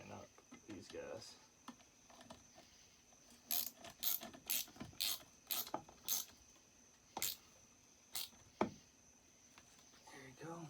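A ratchet clicks in quick bursts while tightening bolts during reassembly of a McCulloch Mac 10-10 chainsaw, close and fairly faint, with short pauses between strokes and brief talk at the start.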